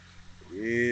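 A 2018 Dodge car engine idles with a low, steady hum after a coil pack and spark plug install, and a voice talks over it in the second half.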